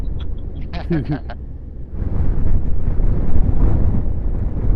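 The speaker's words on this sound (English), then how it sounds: "It's getting fucking windy, eh?" Strong wind on the road from Kilcreggan to Loch Lomond buffets the microphone with a loud, continuous low rumble that swells and persists, following a brief voice at the start.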